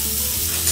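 Rice sizzles in a hot pan with plenty of garlic, a loud, close, continuous hiss lasting under a second.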